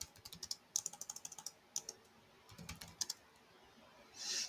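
Typing on a computer keyboard to enter a prompt: quick runs of light, close key clicks in short bursts with brief gaps, ending in a louder clatter, quiet and with no talking.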